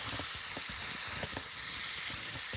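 Swedish meatballs frying in a pan, giving a steady close sizzle with soft crackling pops and bubbling spits scattered throughout, no voices.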